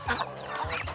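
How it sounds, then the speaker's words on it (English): Free-range local chickens on a mixed farm clucking close by, a few short throaty clucks in quick succession with faint ambient farmyard noise. "we have the guinea fowls, we have the chickens, the local chickens, right here."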